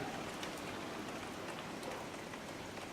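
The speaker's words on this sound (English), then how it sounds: "Water's just streaming down," Heavy rain driven by ex-tropical cyclone winds, a dense continuous hiss of falling water pouring down steadily and fairly close, with no voices.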